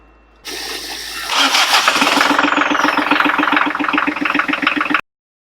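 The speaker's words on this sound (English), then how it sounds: "get the ignition on" Sailboat inboard engine cranking, then catching and running with a steady, loud, close chugging idle, no talk over it.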